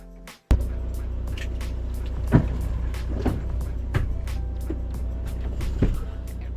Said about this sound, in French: Je vais démarrer le camion.